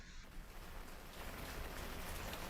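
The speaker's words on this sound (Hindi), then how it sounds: "लगातार हो रही बारिश से जनजीवन अस्त व्यस्त हो चुका है" Heavy, continuous rain falls on a flooded residential street during days of downpour, a dense steady hiss that carries on throughout.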